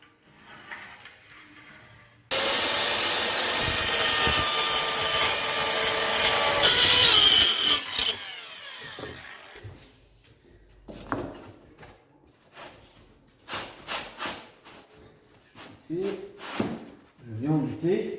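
A handsaw cuts through a laminate floating-floor plank along a marked line, giving a loud, rapid rasping stroke for several seconds. Scattered knocks and handling sounds follow, and a person speaks briefly near the end.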